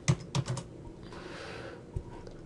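Typing on a computer keyboard while entering multi-line text in drafting software: a quick cluster of close, crisp keystrokes at the start, a softer rustle, then one last isolated key tap.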